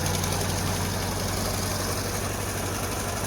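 A Honda N600's small engine idles with a new exhaust system fitted, a steady, close, low burble with an even pulse and no other sounds.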